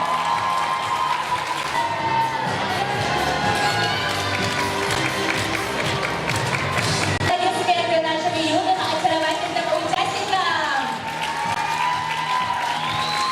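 At a children's gala concert of the Brilliant Notes 2018 festival, an audience claps and cheers loudly and continuously for a performing group from Yakutsk, with a few whoops and tonal sounds rising above the steady applause.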